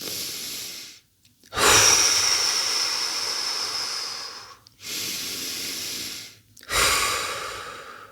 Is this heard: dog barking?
no